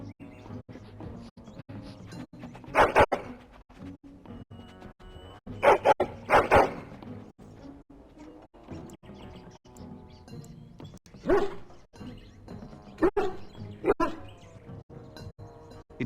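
A hound barks in a castle in the Dragon Age: Origins fantasy game, sounding in a few short loud bursts of two or three barks spaced across the stretch, over a low ambient game backdrop.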